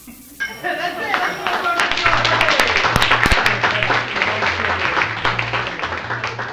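Audience applause fills a live improv comedy show in St. Pete, loud and sustained with dense clapping after a brief opening moment, alongside a few whoops and a steady low beat underneath.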